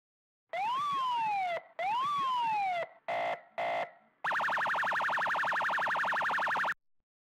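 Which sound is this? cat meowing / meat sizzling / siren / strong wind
siren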